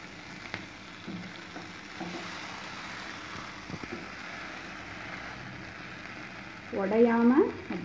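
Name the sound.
chicken legs frying and turned on a dosa griddle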